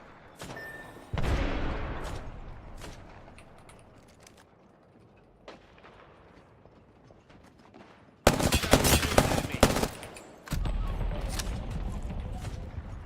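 Gunfire in the Apex Legends battle royale: a few scattered shots, then a loud sustained burst of automatic fire near the end, with quieter stretches of ambient game noise between.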